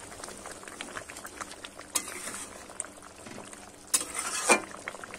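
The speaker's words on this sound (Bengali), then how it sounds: "দেখো ভালোভাবে কিন্তু ফুটে গেছে ঝোলটা।" Curry gravy bubbling at a full boil in a pot, a soft, steady plopping and gurgling close by, with a few brief louder splashes and a spoon knock.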